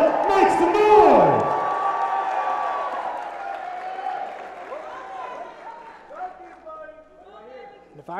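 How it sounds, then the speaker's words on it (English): Crowd at a Muay Thai fight in Spartanburg, South Carolina, cheers, whoops and applauds loudly at the start of a round, the noise gradually easing while a ring announcer's amplified voice carries over it. "it's up to you to cheer these fighters on"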